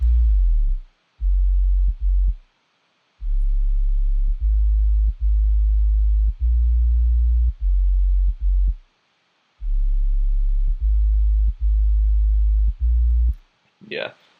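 A regular sub bass synth plays alone in a deep, steady low tone, sustaining through a series of notes separated by brief gaps and clicks at the note changes, with a short higher sweep at the very end.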